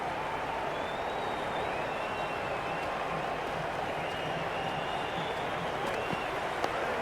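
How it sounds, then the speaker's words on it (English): A cricket crowd in a video game applauds in a steady, dense wash of clapping and cheering from a large stadium. The noise holds at an even level throughout, with faint whistles rising above it. "The crowd is electric right now."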